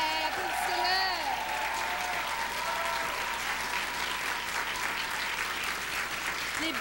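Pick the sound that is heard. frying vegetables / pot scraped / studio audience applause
studio audience applause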